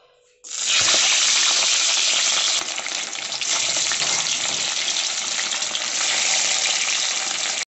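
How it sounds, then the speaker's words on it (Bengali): Marinated fish dropped into well-heated oil bursts into a loud, dense sizzle that starts abruptly and holds steady, crackling and spattering without pause for several seconds. "তেলটা খুব ভালোভাবে গরম হয়ে গেছে, এবার মাছগুলো ভেজে নেব। এবার মাছটা দিয়ে দেব।"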